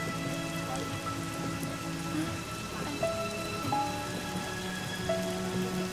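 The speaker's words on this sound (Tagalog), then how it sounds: "ang lakas-lakas na ng ulan" Heavy rain pours steadily on a surface, a dense, constant hiss with faint tonal background hum throughout, no voices.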